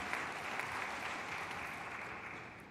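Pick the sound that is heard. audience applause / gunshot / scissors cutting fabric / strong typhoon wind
audience applause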